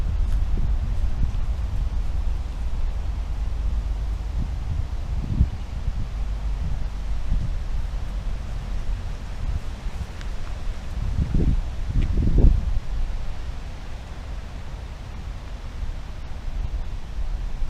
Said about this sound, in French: Il y a beaucoup de vent, donc ça aide pas.